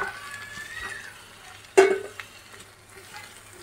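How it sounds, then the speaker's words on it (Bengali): Fried potatoes go into a pan with tomato ketchup for Kashmiri alur dom and are sautéed, with a low steady sizzle, a sudden loud clatter as they drop in, and soft stirring scrapes after. "দিয়ে ভালো করে কষিয়ে নেবো একদম।"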